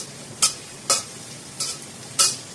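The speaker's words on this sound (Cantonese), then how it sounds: "咁葱頭慢火炸香佢，炸啲葱頭油嚇" Red shallots frying slowly in oil over low heat, heard as four short, bright bursts of sizzling stirring spaced apart over a quiet background hiss.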